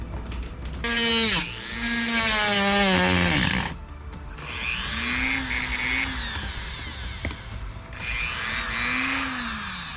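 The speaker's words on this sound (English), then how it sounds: "having some problems with my dremel here" A failing Dremel rotary tool bogs down and revs up again while cutting during a light controller install, its loud whine sliding up and down in pitch across several strained bursts with no talking.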